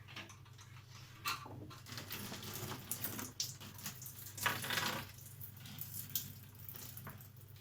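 Water drains from a disconnected sink tap into a bucket below, giving faint trickles and irregular splashes and drips over a low background hum.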